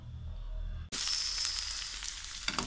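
Chopped onion, a small handful, hits a hot frying pan and bursts into a loud, steady sizzle after a moment of quiet, crackling on continuously to the end.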